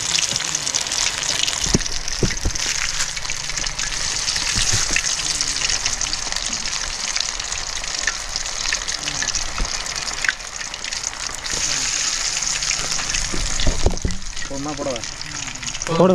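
Red pomfret fish deep-frying in hot oil over an outdoor village fire, a loud, steady, crackling sizzle that runs without a break, with occasional clinks and faint voices underneath.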